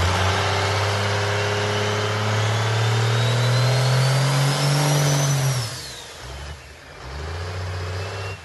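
A Ford Excursion monster truck on air bags, called the Outlaw, revs its engine while driven up onto an obstacle, the deep engine note climbing steadily then dropping off and settling back near idle, loud and close.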